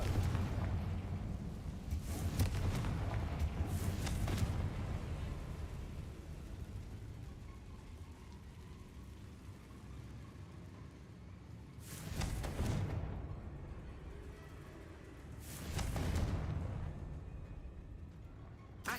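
Confringo blasting spells cast in Hogwarts Legacy, heard as a few loud booming bursts spaced across the stretch, with low rumbling ambience between them and no talk.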